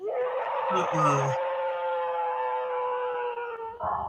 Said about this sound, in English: It sounds more like a dog howl.